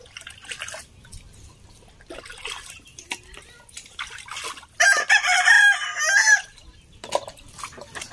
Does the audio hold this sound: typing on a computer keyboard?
no